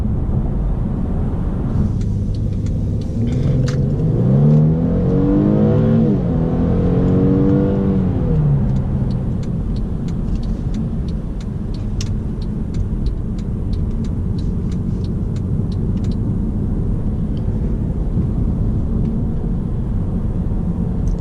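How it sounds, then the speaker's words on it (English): A Mercedes-Benz E350 4Matic Sport's engine drones steadily with road and wind noise, one clear rev climbing through the gears partway through as it joins a highway, before settling into a cruising hum. "Just gonna take this car into the highway real quick."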